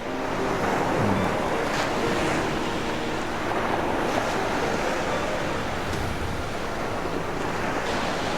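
Ocean waves wash onto a seashore in Prachuap, a constant roaring surf with wind buffeting the microphone, loud and unbroken throughout.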